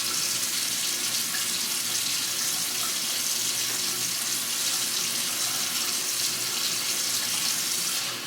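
Steady tap water running into a sink during a morning skincare routine, rinsing off face wash, a constant loud splashing rush with no pauses and no voices.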